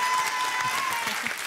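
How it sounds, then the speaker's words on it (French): Studio audience applauding on a French TV dating show, a steady dense clatter of clapping filling the short stretch at even loudness. "Applaudissements pour Betty et Bruno."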